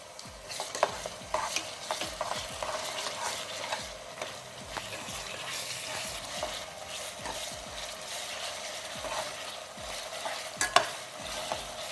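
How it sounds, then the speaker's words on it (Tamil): Ginger garlic sautéing in a pan for pressure cooker mutton biryani, stirred continuously with repeated scraping strokes over a soft sizzle and a few sharper clicks of the spoon. "இஞ்சி பூண்டு வந்து பச்சை மாற வரைக்கும் கிண்டிக்கிட்டே இருக்கணும்"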